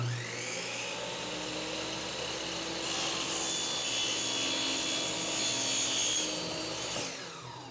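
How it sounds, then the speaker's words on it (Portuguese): A TNT saw running at 5,500 rpm cuts through an aluminium gate rail, a continuous harsh grinding rasp with a whining edge that grows louder midway, then stops near the end. "Primeiro corte dessa serra TNT no alumínio."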